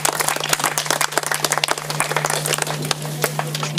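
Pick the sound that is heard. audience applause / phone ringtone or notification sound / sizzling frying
audience applause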